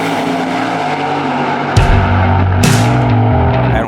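A race car roars close by at high speed, its engine note climbing and then dropping to a lower droning tone, with sharp bursts of noise as it passes or shifts gear.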